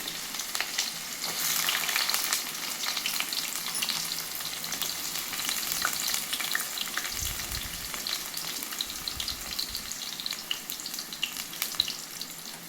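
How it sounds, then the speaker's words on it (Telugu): Chopped onions fry in hot oil for an egg tomato curry, making a steady, dense sizzle with crackling that lasts throughout, fairly loud and close with no voices. "ఆయిల్ వేడెక్కిందో లేదో తెలియడానికి ఒక రెండైతే ఫస్ట్ వేసానండి తర్వాత మొత్తం ఆనియన్స్ అయితే వేసుకుంటున్నాను"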